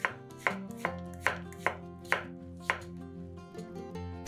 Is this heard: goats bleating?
no